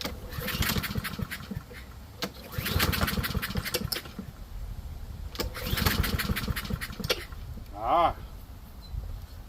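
A Honda HRR lawn mower with no air filter and a blocked carburetor, running on starter fluid. Its engine starts and runs in several loud, rough bursts of a few seconds each, then cuts out.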